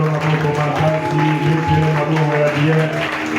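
A church congregation claps and applauds in a dense, continuous wash, mixed with voices and tonal music or singing throughout.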